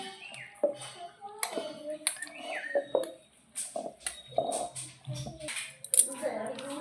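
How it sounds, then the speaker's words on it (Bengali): A spoon stirs oil through mango pickle inside a jar, giving repeated clinks and scrapes against the glass in an uneven rhythm, close and moderately quiet, with some background speech. "এবার একটা চামচ দিয়ে তেলটাকে ভালো করে আমের সঙ্গে মাখিয়ে নেব উপর নিচে করে"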